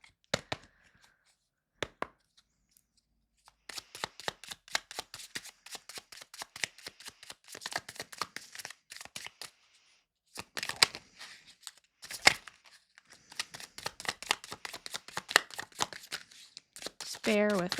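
Tarot cards shuffled close by in a quiet room, bursts of soft riffling and tapping that start, pause and resume across the stretch, with a person talking now and then.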